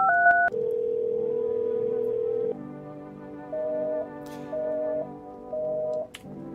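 A video game telephone plays a couple of brief high tones, then a long steady dial tone that drops lower, followed by three evenly spaced short ringing beeps, fairly quiet and with no talk.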